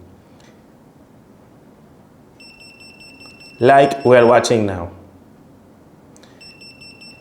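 Steady high-pitched electronic alarm tones from a digital nuclear radiation detector sound over a quiet background, briefly interrupted by a person speaking in the middle.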